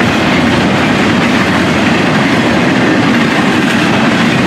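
A Florida East Coast freight train, the 121, rolls past in early morning with a loud, steady rumble and continuous clickety-clack of wheels over rail joints, dense and close throughout with no voices.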